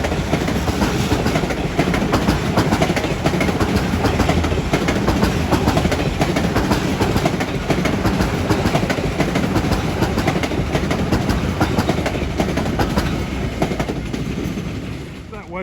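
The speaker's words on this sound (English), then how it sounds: "That westbound on 1 was train 2401 out of Hicksville to New York." A westbound Long Island Rail Road train, number 2401 from Hicksville to New York, passes Mineola on track 1 with a loud, sustained rumbling roar and wheel clatter that stays steady throughout and eases slightly at the end.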